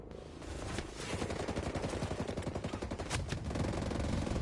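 Sustained automatic gunfire in Ghost Recon Breakpoint, a dense and loud rattle of rapid shots that holds steady throughout with no talk over it.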